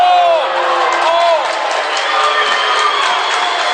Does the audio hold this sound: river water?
no